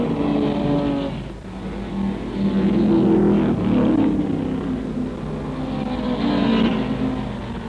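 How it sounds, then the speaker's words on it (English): Saloon cars race round a 1963 circuit with a Ford Galaxie out in front, a loud, continuous roar of several engines near and far that swells and fades as cars pass, with no talk. "Down from Druids, the Galaxy holds its lead, and the track is bulging with saloons."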